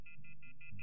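Telephone in The Wolf Among Us video game giving five short, evenly spaced electronic tones, quiet and alone.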